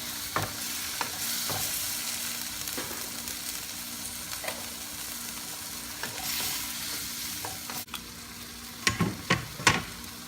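Tomato frying in a pan for milkfish stew: a soft continuous sizzle with scattered stirring scrapes and a few sharper utensil knocks near the end, moderately quiet and close, no talking.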